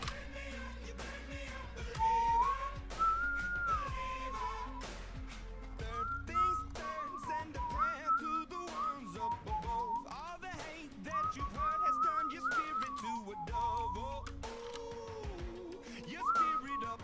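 A person whistles a tune, clear and melodic with sliding pitched phrases and short pauses, close and alone over faint background clicks.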